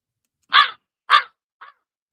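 Two harsh, raspy caws a moment apart, then a third shorter and fainter one, standing alone against silence.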